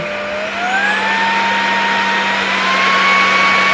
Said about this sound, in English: So once you turn the vacuum on, you will have a display showing how much power it has